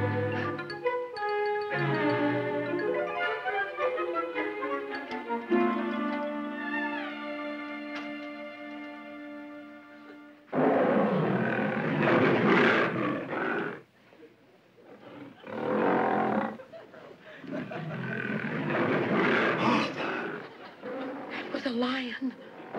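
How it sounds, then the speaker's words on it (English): Lions roar loudly on a wild animal record, following an opening stretch of orchestral music with held tones; the deep, rough roars come in long bursts with short pauses between them. "How about playing your wild animal record so it'll be like we're camping out in the jungle?"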